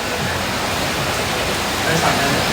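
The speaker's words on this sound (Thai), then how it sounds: "ฝนตกแรงมากฝนตกครับพี่" Heavy rain falls with a continuous, dense hiss, steady and fairly loud throughout, swelling slightly near the end.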